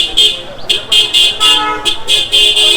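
Repeated short car horn toots on a street in Gokarna, India, loud and close, sounding in quick irregular bursts over a low rumble of traffic.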